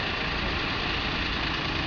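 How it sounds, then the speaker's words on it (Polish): A tractor assembled in Mrągowo by Farm Europe idles at the Minikowo 2013 agricultural show, giving a continuous, even, low diesel rumble with no change in pace and no voices over it. "To są ciągniki, które są montowane, a właściwie montowane w Mrągowie."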